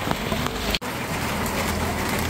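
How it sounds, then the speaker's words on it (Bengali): Heavy rain pours near the railway office gate in Pakshi, a dense, steady broadband wash, briefly cut off near the start. "আমি আপনাদেরকে বৃষ্টিটা দেখাই।"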